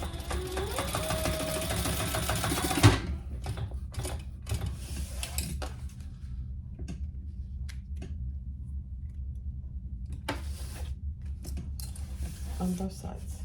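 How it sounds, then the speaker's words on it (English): A sewing machine runs in one steady burst for about three seconds, basting fabric pieces of a small sling crossbody bag, then stops, leaving quiet room tone and soft handling noises. "we're just gonna baste those in place"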